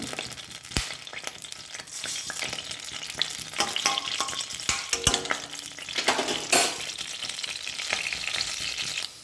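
Washed rice fries in coconut oil in a pan, crackling and hissing steadily while a spoon scrapes and clinks against the pan in scattered, irregular knocks.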